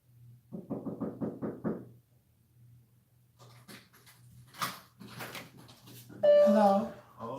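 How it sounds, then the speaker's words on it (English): A quick run of about seven knocks raps on a door, fairly loud and evenly paced, followed by a pause and then muffled movement, voices and a brief tonal sound. "Who the hell is this knocking on my door?"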